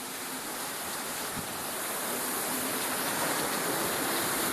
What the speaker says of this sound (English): This is a light squall. It's not very bad at all. You hear the rain